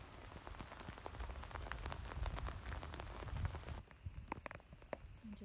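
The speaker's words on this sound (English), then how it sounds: "Hearing the sound of the rain." Rain falling steadily, a close, soft patter of many drops hitting a surface, thinning to sparser, lighter drips near the end.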